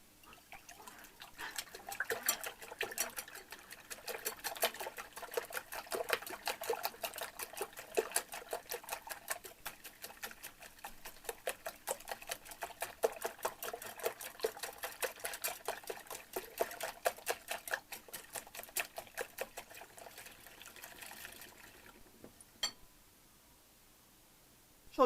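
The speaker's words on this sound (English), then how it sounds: "We are going to give these eggs a really good whisk" Eggs are whisked by hand in a bowl, producing a rapid, steady train of close ticking clinks for about twenty seconds before the beating stops and the sound fades.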